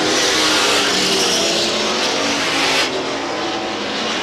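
Race cars thunder around the oval at Star Speedway in a late-lap battle for position, a dense, loud wall of engine roar that dips slightly near the end, with no talk over it.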